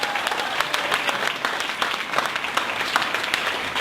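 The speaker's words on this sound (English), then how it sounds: "Let's give him one more big round of applause." A round of applause from an audience at a community music program fills the space, dense steady clapping with small surges, close and continuous throughout.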